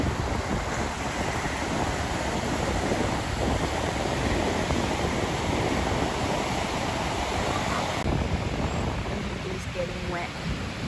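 Ocean waves wash onto a beach in a steady, loud broadband roar with wind buffeting the microphone, while voices talk faintly over the surf.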